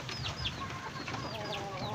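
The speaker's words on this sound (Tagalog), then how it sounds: "Ito yung broodcock natin." A broodcock rooster in its pen clucks and squawks close by among other chickens, several short rising calls over a steady murmur of fowl noise.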